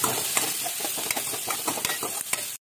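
Spices and sliced onion frying in a pan in a home kitchen, a steady sizzle broken by sharp crackles and occasional stirring scrapes, close and fairly loud before cutting off abruptly.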